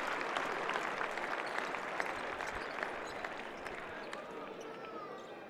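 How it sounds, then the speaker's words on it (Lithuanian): A basketball arena crowd applauds an injured player during a Lithuanian league game between Žalgiris and Šiauliai, a dense, steady patter of clapping filling the hall, with an announcer talking over it. "Aplodismentais išlydimas Šarūnas Beniušis."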